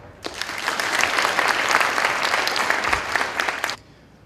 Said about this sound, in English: Show of applause if you think it's dark blue.